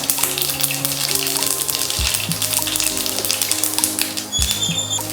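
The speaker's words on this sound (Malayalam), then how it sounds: "കടുക് പൊട്ടി വരട്ടെ." Mustard seeds pop and splutter in two to three spoons of hot oil for Kerala-style ginger pachadi, a close scatter of sharp crackles over a steady hiss, with low tonal music running underneath.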